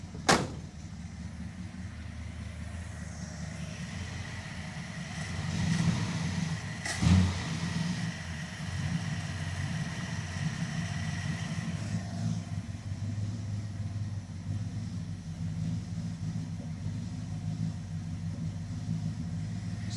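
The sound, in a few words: Dodge Charger crew cab engine misfiring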